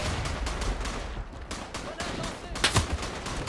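Gunfire from the World War I shooter game Verdun: rapid, overlapping rifle and machine-gun shots crackle at mid distance, with a louder burst near the end over a rumbling battlefield background.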